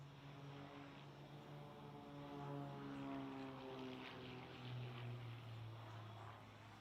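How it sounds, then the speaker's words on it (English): An aerobatic propeller airplane at an air show gives a steady droning engine hum with a slowly shifting pitch, faint and distant, holding without a break. "This aircraft flat out rips up the sky."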